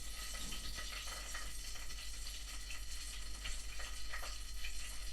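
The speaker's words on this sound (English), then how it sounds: "I dropped some of the sauce in the oil, and now it's frying" Tomato sauce sizzling and spitting in hot oil in a pan, a steady close crackle with scattered pops continuing throughout, no talking.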